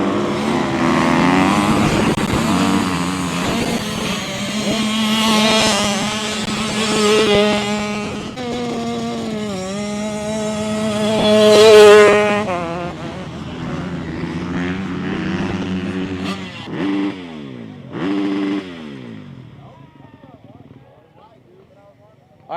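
Motocross bikes, one an 85, roar off the start line together in a loud rising engine wail that climbs and then fades as they pull away, with excited talk over the noise.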